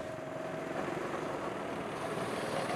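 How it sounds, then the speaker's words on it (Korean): Go-kart motors at a seaside kart track on Daecheon Beach in Boryeong, a steady blended engine drone heard from a distance with no break, and no voices. "정체를 알 수 없는 모터 소리가 울려 퍼지는 이곳."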